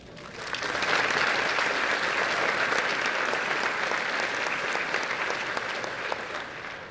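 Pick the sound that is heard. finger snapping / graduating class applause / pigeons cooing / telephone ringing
graduating class applause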